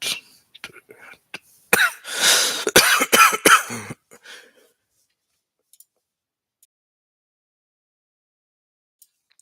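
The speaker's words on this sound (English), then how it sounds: "Sorry for all the coughing into the mic." Someone coughs and clears their throat right into a microphone: a burst of several rough coughs, followed by a few faint ticks and then near silence.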